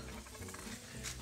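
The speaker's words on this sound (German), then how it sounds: "Dann knallst du die Kartoffeln rein und lässt sie ein bisschen anbraten." Potatoes frying in oil in a pan make a steady, close crackling sizzle with soft stirring scrapes, continuous throughout, and no one speaks.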